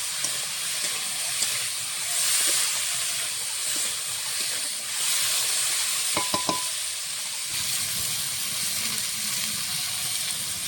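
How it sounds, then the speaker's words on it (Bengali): A steady sizzle of potatoes frying in a pan fills the clip, with a few light scraping clicks of a spatula stirring near the middle and no voices. "আলু সুন্দর ভাজা হয়ে যাবে"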